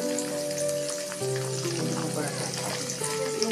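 Diced carrots hit a pan of lightly fried chopped ginger and garlic for a vegetable pasta, giving a loud, steady sizzle with a bright hiss throughout and faint stirring underneath.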